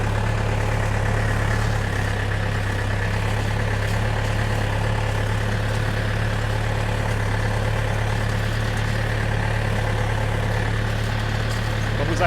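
A tractor engine runs steadily in second gear during hay baling, a loud, close, constant low diesel drone with no break throughout.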